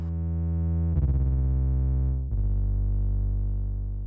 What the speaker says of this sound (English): where we're going to create some distortion to get a little bit of harmonics,